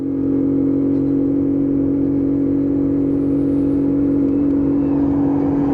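A Lexmoto Aspire 50cc scooter climbing a hill, its small engine holding a steady, loud whirring drone up close with little change in pitch.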